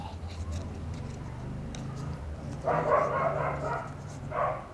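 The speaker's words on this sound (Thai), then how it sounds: "หมานี่ก็แปลกเวลาถ่ายคลิปทีไรมันก็เห่าทุกที" A dog barks in two short bursts of a few yaps each, somewhat distant, over a low steady background hum while someone folds banana-leaf offerings indoors.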